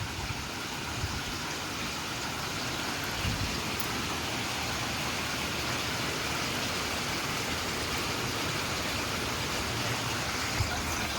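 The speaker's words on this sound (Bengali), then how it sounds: "তার সাথে জোরে বৃষ্টি হচ্ছে" Heavy rain in a storm pours down in a steady, dense broadband wash that holds level throughout, with no voices and no breaks.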